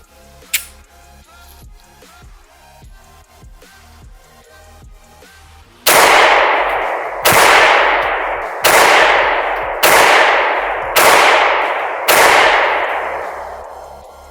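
A CZ P07 pistol loaded with P10F magazines fires six loud, sharp gunshots at a steady pace of roughly one per second, each followed by a brief decaying ring, after quieter background handling at the start.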